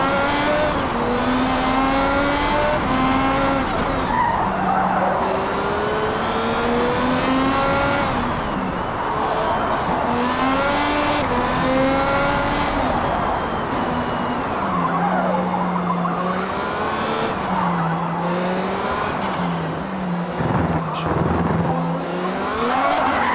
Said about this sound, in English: Lock up the tires, burn them off.